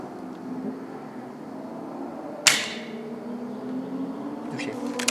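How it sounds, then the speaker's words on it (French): An airsoft pellet strikes a polyethylene foam target with one crisp, sharp tick midway through, over a steady hum of background noise and faint ticking near the end. "Le support c'est une plaque de polystyrène, enfin polyéthylène plutôt, donc on entend le petit tic qui rebondit."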